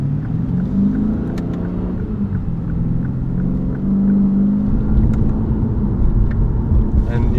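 A 2015 Lexus RC F with a torque-converter automatic, heard from inside while driving: a steady low engine drone with a brief shift in pitch partway through, under someone talking.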